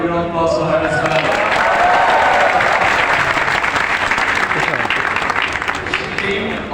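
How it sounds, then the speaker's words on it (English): Big round of applause from a live audience welcoming a guest's wife at an event in Bangladesh, loud sustained clapping from a packed room that swells early and holds evenly to the end. "Can you have a big round of applause for her as well?"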